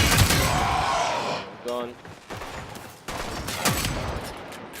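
Rapid bursts of Akbolto Prime pistol fire in the Warframe video game crack close and sharp among game effects, with a voice speaking briefly.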